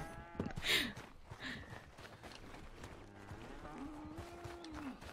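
Cows moo in the video game Red Dead Redemption II, a couple of drawn-out lowing calls heard at moderate distance over a busy background of ambient farm noise.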